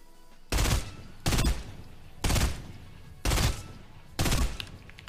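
A FAMAS assault rifle in Fortnite fires five separate loud bursts, each a quick rattle of shots, spaced about a second apart with quiet gaps between.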